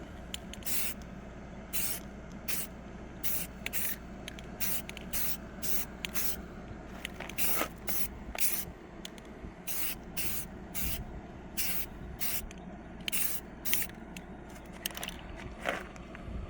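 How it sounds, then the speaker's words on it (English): Spray finish misted in light, even coats onto a walnut speaker cabinet, coming as a long series of short, sharp hissing bursts at a steady rhythm over a constant background hum, close and fairly loud. "light even coats, or light even sprays"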